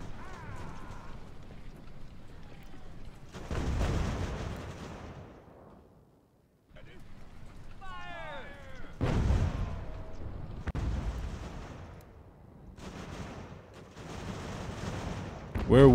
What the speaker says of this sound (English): try and stay out of the line of fire of these guns that are firing through this window